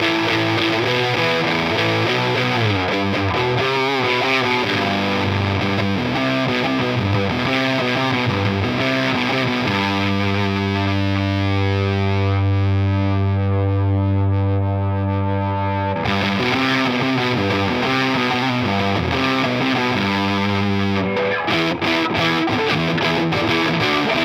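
Electric guitar through a fuzz pedal starved by voltage sag, giving a duller, sputtering distorted tone with a held, buzzy chord in the middle, played alone and continuously throughout.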